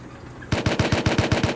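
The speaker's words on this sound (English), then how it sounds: "I'm shooting the bear." Rapid automatic gunfire is aimed at a bear in the video game Rust, with about ten loud, evenly spaced shots beginning suddenly after a quiet moment.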